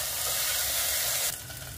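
Ginger garlic paste and chopped mint sautéing in a hot pan for mushroom pulav, a loud, close sizzle that drops sharply partway through as the ingredients are stirred.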